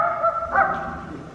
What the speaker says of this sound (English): Toto started barking.